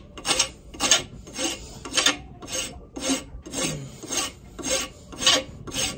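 A carbon steel knife blade clamped in a vise is filed in steady, rhythmic rasping strokes, about two per second, close and clear with no talk.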